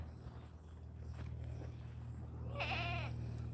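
A goat bleats once near the end, a clear wavering cry rising over a steady low hum and some faint shuffling.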